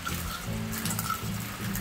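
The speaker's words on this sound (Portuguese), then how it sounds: "Desligar, desligar na torneira." Water runs steadily from a kitchen tap for a short moment, a constant hiss and splash at close range with no voices, and the pictured portion does not plainly show it being shut off.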